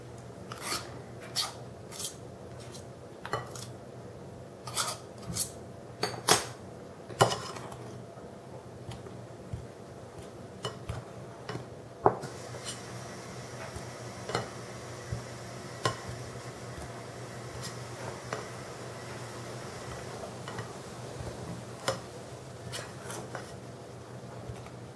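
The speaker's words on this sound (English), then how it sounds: "I want you to learn how to do it with a pastry blender or a pastry cutter." Steady scraping and cutting of a pastry blender working fat into a bowl of flour for apple pie pastry, with sharp clicks and taps scattered throughout.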